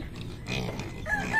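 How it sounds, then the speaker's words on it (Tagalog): Native pigs on a farm give off a short burst of low grunts and oinks, faint and close together, with no talk over them. "Yan ang native na baboy mga guys."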